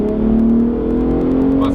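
A 2021 Ford Raptor truck engine hums and builds steadily as it revs, holding a loud, continuous tone with rising pitch, while a voice talks over the engine throughout.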